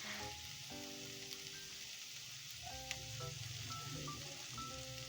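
Chicken and chopped cabbage sizzle steadily in a hot pan for soup, a close, continuous crackling fry with scattered pops and faint stirring.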